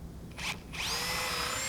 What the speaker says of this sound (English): So I'm just going to come down about 30mm directly in the centre and pre-drill for my 100mm bugle screw.